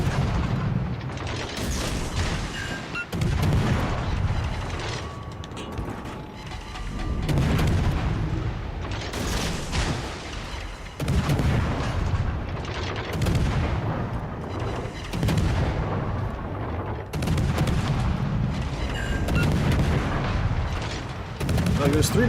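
Battleship guns firing in the naval combat game World of Warships: Legends, heavy booming salvos repeating every two to three seconds over a constant rumbling background, loud and close throughout.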